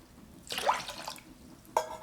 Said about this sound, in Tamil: இப்போ 4½ கப் அளவுக்கு தண்ணி விட்டு ஊற வச்சுக்கலாம்.